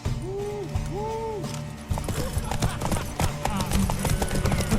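Horse hooves gallop in The Witcher 3: Wild Hunt during a race, with a whinny early on, then a dense, fast clip-clop of hoofbeats that grows busier and louder toward the end.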